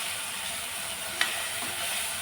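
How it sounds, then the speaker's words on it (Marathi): Tomatoes and onions frying in a pan, with a steady, close sizzle and hiss running throughout and one brief tap partway through. "आणि कांद्यासहित टोमॅटोही छान भाजून घेऊया।"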